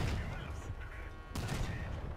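Vehicle-mounted guns firing in the Crossout video game, a dense close volley of gunfire that briefly eases and then erupts again, with speech faintly present.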